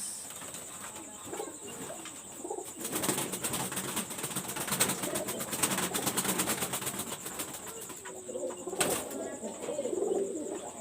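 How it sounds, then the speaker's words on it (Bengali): A female Pireshpuri pigeon handled up close, soft low cooing and brief wing flutters amid rustling and handling noises, with faint background voices. "এটা একটা পিরেশপুরি কবুতর"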